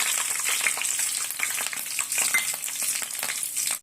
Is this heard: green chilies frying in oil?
yes